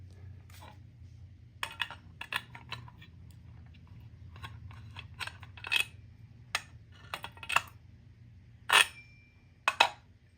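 Plastic being cut for clearance while fitting a rear suspension and extended swing arm to a Razor E200 or E300 electric scooter: sparse, sharp snips and crunches in short bursts over a low steady hum, close and fairly quiet.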